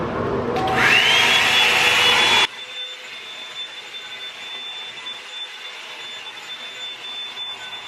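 A Revlon One Step hot air brush styler roars loudly on high with a rising whine, then cuts off abruptly after a couple of seconds, leaving faint room hiss.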